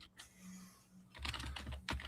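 Keyboard typing at a computer, a quick run of close, crisp key clicks that grows busier toward the end.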